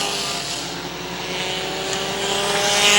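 Dirt modified race cars roaring around the Airborne Speedway dirt track in Plattsburgh, New York, a dense, continuous engine drone that stays loud and swells slightly as the pack passes.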